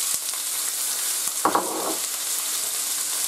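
Red bell pepper drops into hot oil and bursts into a sharp sizzle, a brief crackling hiss over a faint steady frying background.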